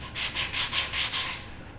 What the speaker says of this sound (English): So now I'm on to sanding the seat.